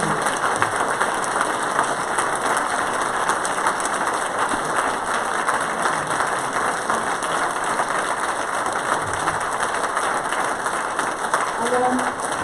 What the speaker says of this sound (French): Je vais simplement vous demander de tous vous lever et d'applaudir André et même Eugène et Raymond